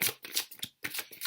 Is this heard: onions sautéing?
no